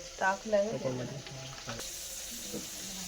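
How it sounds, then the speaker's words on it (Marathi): Oil heats and sizzles in a pot over a wood-fired clay stove, a steady close hiss that runs through the whole stretch, with voices talking over the first part. "तेल टाकत आहे"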